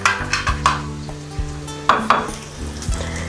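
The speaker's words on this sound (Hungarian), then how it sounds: "Közben már nagyon szépen sül a szalonna." Bacon sizzles and fries steadily in a pan, with a few sharp clinks and scrapes of utensils against metal over the continuous hiss, close and fairly loud, with no talking.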